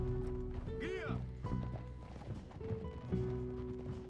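Horse hooves clip-clop in Red Dead Redemption 2, with a brief whinny-like rising call near the start. The steady hoofbeats sit among sustained tonal in-game sounds at moderate volume.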